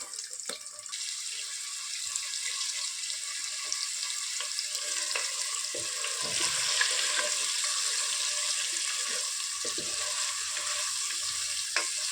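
Paneer and cashews fry in a pan of oil for paneer kaju masala, a continuous bright sizzling hiss heard close up with occasional soft stirring taps and no talking.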